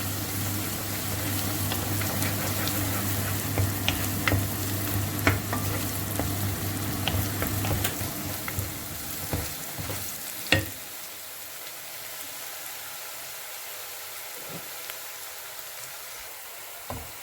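Steady sizzling and frying of crushed ginger and garlic in a pan, with occasional stirring clinks; the sizzle drops off partway through, leaving quieter crackles.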